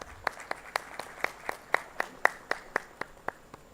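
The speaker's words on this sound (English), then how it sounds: "A big round of applause for that." An audience claps at the inauguration of an industry summit, with about fourteen sharp, evenly spaced claps in a steady rhythm over a faint room background and no talking.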